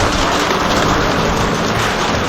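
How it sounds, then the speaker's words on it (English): Heavy rain and hail pelt a freshly poured concrete house slab at an off-grid homestead build site, a loud, dense, unbroken roaring hiss with no voices. "We got rain and hail."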